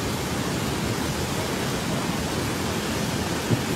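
Rushing floodwater in Cotabato near the Magpet Bridge, reaching houses, roars as a loud, dense, unbroken wash of noise throughout, with no talk audible.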